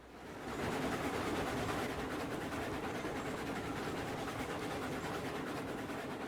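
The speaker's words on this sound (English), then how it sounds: "why do I still hear an engine?" A passenger train engine in the railroad game Railroads Online runs close by, producing a loud, steady mechanical rumble and rushing roar that holds evenly throughout, with no voices.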